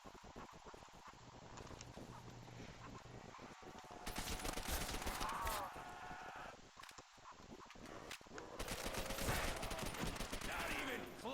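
Bursts of automatic machine-gun fire ring out in Call of Duty: World at War zombies mode, repeated rapid volleys mixed with game sounds and faint background effects.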